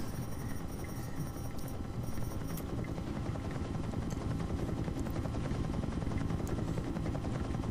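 A police helicopter in the game Urban Chaos: Riot Response drones on with a constant, dense rotor and engine roar, steady and loud throughout with no voices.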